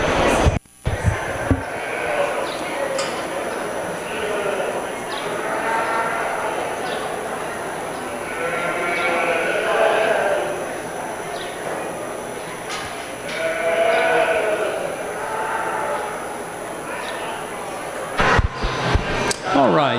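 Sheep and lambs bleating at a sheep show during ewe yearling lamb classes, a steady chorus of overlapping bleats spread across the clip with an announcer's voice over a public address.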